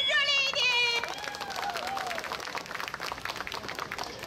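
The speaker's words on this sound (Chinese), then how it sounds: "掌声热烈一点" Crowd applause breaks out at an outdoor temple lantern festival evening event, dense clapping under a voice that speaks briefly at first, then continuing as steady clapping.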